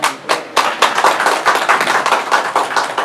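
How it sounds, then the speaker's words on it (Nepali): Council members at a village assembly session in Nawalparasi clap in support, a loud, close run of brisk overlapping claps from a small group lasting a few seconds. "ताली बजाएर समर्थन जनाउन"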